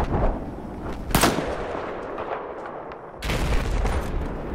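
Sniper fire in Battlefield 4 on a mountain map, with a couple of sharp, loud rifle cracks and echoing booms over a steady rumble of distant battle noise.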